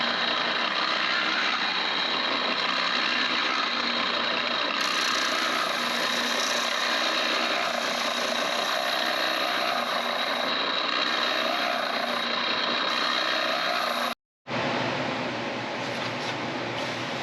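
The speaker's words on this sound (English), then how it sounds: "I think that right there will all sand nice and flat with the orbital spindle sander" An oscillating spindle sander runs steadily against an ash Les Paul-style guitar body, giving a continuous loud motor whir and sanding hiss with one brief break near the end.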